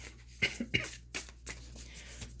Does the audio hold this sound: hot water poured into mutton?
no